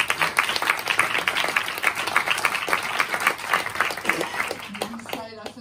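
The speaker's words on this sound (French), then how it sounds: "On peut l'applaudir." An audience at a special radio charity evening applauds a newly elected winner, a dense run of clapping throughout with voices mixed in, thinning out near the end.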